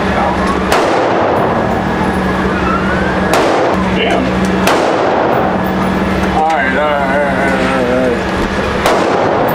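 Glock pistol shots at a gun range, several sharp loud cracks spaced a few seconds apart over constant background noise, with a voice talking between shots.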